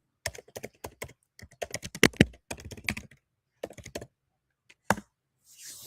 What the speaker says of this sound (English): Those moments when I'm typing.